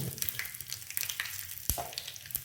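Mustard seeds, cumin, curry leaves, a bay leaf and asafoetida sizzle and crackle in hot oil for a Gujarati dal tempering, a steady close fry with a few sharp pops, no voice.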